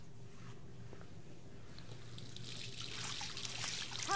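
Running water from a tap in the Life is Strange video game, a steady soft trickle that grows louder and more splashy toward the end, heard alone without talk.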